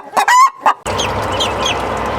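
A broody hen squawks and clucks loudly a few times up close, then the sound cuts to a quieter stretch of mixed background noise with faint bird calls.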